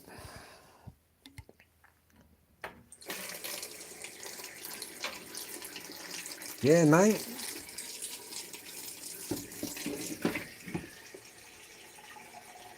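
Water runs steadily from a tap for most of the stretch, a broad continuous hiss at moderate level under men's casual conversation, with a brief voice pitched higher in the middle.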